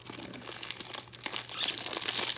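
A paper wrapper crinkles and crackles as a Topps baseball card pack from 2020 Series 1 is torn open, with close, irregular rustling that grows slightly louder toward the end.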